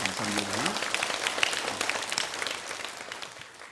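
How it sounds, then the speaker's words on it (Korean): Church congregation applauding a choir of just over forty voices during a Sunday worship service, a steady mid-level wash of clapping through a large room with some voices and murmur mixed in. "우리 한번 큰 박수 한번 보내주실까요?"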